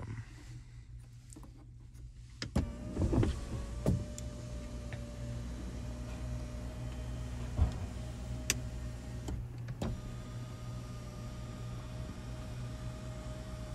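A power sunroof on a 2024 Chevrolet Silverado LT Trail Boss 5.3L slides open inside the cab, a steady low electric-motor whir with a few sharp clicks and thumps, close and fairly quiet, with no talking.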